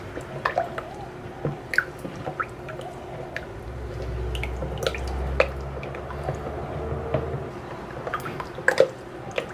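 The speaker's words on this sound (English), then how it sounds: "I'm gonna add in my coconut milk right now." Coconut milk is poured into cold-process soap batter and mixed in a pot, giving wet drips, squishy stirring and soft liquid splashes with a low rumble partway through, and no talking.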